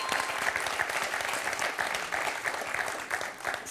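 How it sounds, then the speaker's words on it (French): Studio audience on a French TV quiz show applauds steadily, a dense even wash of many hands clapping at moderate loudness with no talk over it. "Quelqu'un l'applaudit tout particulièrement et très chaleureusement derrière lui."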